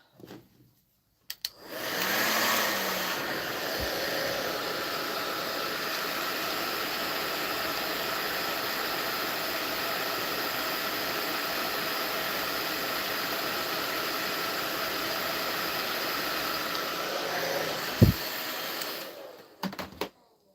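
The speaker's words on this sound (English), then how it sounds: "My hair dryer." A hair dryer runs in a home setting, switching on after a moment of quiet and holding a steady loud whooshing hum for about sixteen seconds before cutting off, with a brief clunk near the end.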